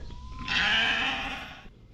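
Sheep bleat loudly at feeding time on a farm, one long wavering bleat close by that fills most of the two seconds before trailing off.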